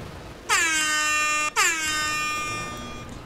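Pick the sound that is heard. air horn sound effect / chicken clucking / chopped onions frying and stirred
air horn sound effect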